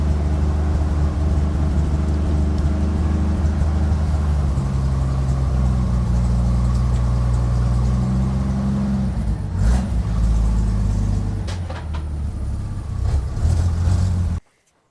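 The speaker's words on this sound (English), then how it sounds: "We're gonna fire the truck up and pull out of the shop, out into the yard" A Chevy C10 pickup's engine runs loud and close inside a shop, a steady, rumbling idle with some shifts in engine speed as it moves out toward the yard, then cuts off abruptly at the end; no talking.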